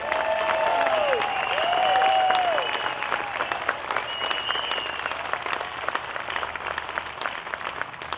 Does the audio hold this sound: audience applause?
yes